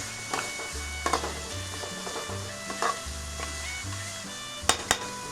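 Onions frying in a kadai for chicken biryani give a soft, steady sizzle with occasional stirring scrapes and clinks, close and moderately quiet, with a low hum underneath and no talking.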